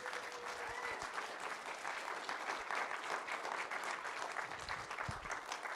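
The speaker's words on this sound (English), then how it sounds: "please give a round of applause to Ben Business" An audience at the Handmade Seattle 2024 event applauds steadily throughout, a dense even clapping heard from within the room with a faint voice near the start.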